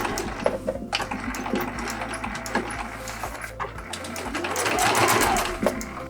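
A sewing machine stitches the seam of a selvage-edge zipper pouch, running steadily and close by with brief back-stitch pauses and a rise in speed near the end, no talk over it.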